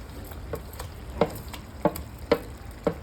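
Pav bhaji vegetables sautéing in a pan: a soft, low sizzle with four or five distinct scraping knocks of a spatula stirring at a steady pace, close and quiet, with no voices.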